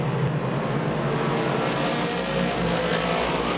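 Sportsman race car engines roar steadily at Big Diamond Speedway, a loud continuous drone from several cars circling the track with no pause.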